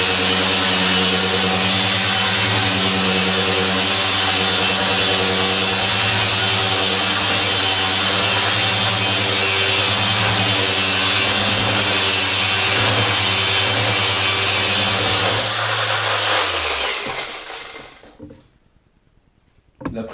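A Triton TGEOS random orbital sander runs in oscillating mode with a loud, steady close-up motor whine and buzz, then spins down and falls silent near the end.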